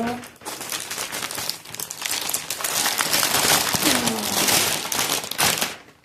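Packaging around a very large canvas is pulled open, giving sustained crinkling and crumpling with sharp tearing snaps, loud and close for several seconds. A brief voice sounds in the background.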